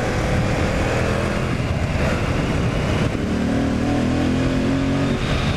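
Stock Yamaha MT-07 motorcycle with the airbox snorkel removed, its engine droning steadily at high revs, loud and close, with a slight pitch shift partway through and no talking.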